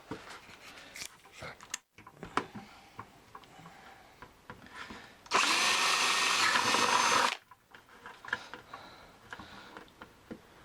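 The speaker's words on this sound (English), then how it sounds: "So, first step, drill a hole." A power drill whines loudly for about two seconds, boring a hole through a plastic bucket, surrounded by quieter handling clatter.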